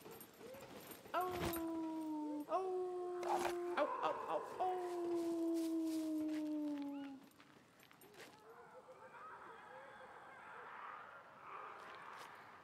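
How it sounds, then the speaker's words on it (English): A player's character in the survival video game Scum lets out a long, wavering howl, rising in steps and holding for several seconds before trailing off into quieter background noise and faint chatter. "I'm gonna howl again."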